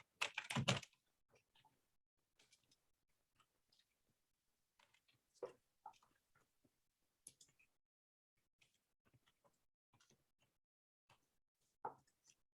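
Sparse, quiet keystrokes tap on a computer keyboard in irregular clusters. A sharper flurry comes at the start, then isolated key presses follow in near silence.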